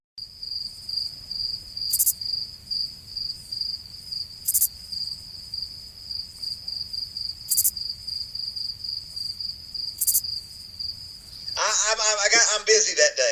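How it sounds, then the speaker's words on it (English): Crickets chirp in a steady high, continuous trill with periodic louder pulses, played as a comedic sound effect alone before a brief busier burst at the end. "Crickets."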